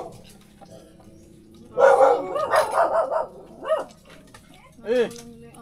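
A dog barks and yips several times in quick bursts at moderate distance, with faint voices in the background.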